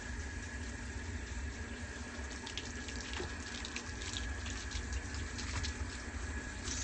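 A faucet runs steadily into a sink as nail spray is rinsed off fingers, a continuous splashing stream with small shifts as hands move beneath it, close and moderately quiet.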